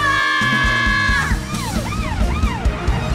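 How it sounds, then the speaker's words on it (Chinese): A cartoon fire engine siren wails in rising and falling sweeps over a bright, busy children's song backing track, starting about a second in and continuing loudly to the end, with no talking. "去灭火！ 消防车，"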